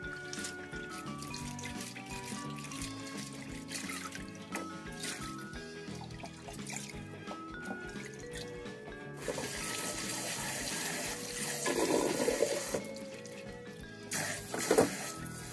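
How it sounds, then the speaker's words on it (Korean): Dried radish strips are kneaded and rinsed by hand in water, with sloshing, squishing and splashing close up. A louder rush of running tap water comes in partway through. "무말랭이를 바락바락 주물러서 서너 번 헹구어줍니다."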